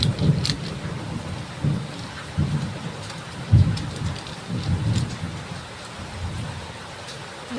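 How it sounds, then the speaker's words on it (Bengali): Heavy rain pours steadily on a surface while low rumbles of thunder roll through repeatedly, a dense close wash of rainfall with deep booming swells and no voices. "বৃষ্টি হচ্ছে, এখন যেতেও পারবো না"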